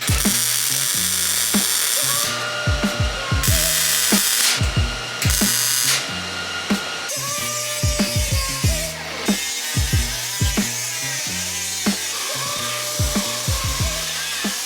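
Power tool grinding down welds on car body sheet metal, loud and continuous with repeated bursts and pauses as the grinder works across the metal, alone with no talk.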